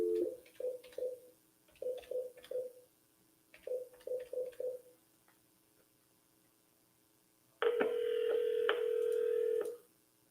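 A telephone is dialed to return a missed call: short bursts of touch-tone beeps in quick groups, followed by a steady dial or ringing tone lasting about two seconds, close and with no talking.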